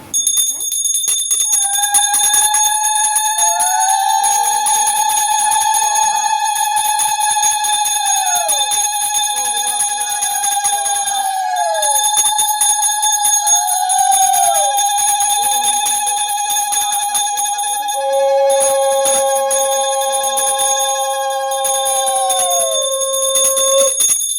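A handheld bell rung during a Bipattarini puja ritual, giving a continuous bright, sustained ringing with overlapping shimmering tones that swell and fade, loud and close throughout.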